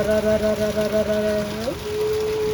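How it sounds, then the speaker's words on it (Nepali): Heavy rain pours down outside a doorway, making a dense, constant hiss, with a sustained tonal hum riding over it for the first part. "यत्रो पानी परेको"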